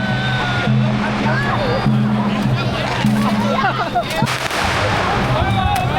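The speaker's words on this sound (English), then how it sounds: "Now they're throwing firecrackers at us." Firecrackers thrown and bursting during the Dragon Boat Festival in Guangzhou, sharp cracking pops scattered among a noisy street crowd, close by, with people talking and a low hum underneath.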